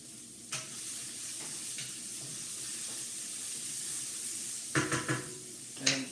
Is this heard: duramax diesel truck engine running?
no